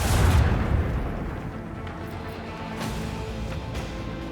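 Starship dorsal cannons fire in the strategy game Rogue Trader: a deep booming discharge opens, then rumbling reverberation trails off, with a few fainter follow-up thuds.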